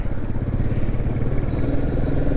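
A Royal Enfield motorcycle engine thumps steadily while riding on a road trip, a loud close rhythmic low-pitched throb with no speech.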